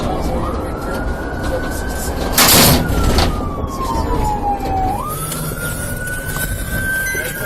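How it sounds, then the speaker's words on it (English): A marked police patrol car's siren wails in a rising and falling sweep during a high-speed pursuit, loud and close over steady road and engine rumble. "a marked patrol vehicle activated lights and sirens to block Howard's vehicle."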